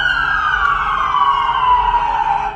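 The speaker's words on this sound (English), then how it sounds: "Code red, lights, sirens." A loud police siren wails close by, its tone sliding slowly downward in one long sweep over a low engine rumble.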